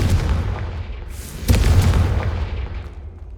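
A Confringo fire spell from a Harry Potter video game detonates with a deep, rumbling boom that swells midway and then slowly fades, loud and close with no talk.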